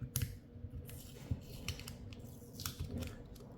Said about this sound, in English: So we lift the tape at the bottom, and we cut a clean and neat edge.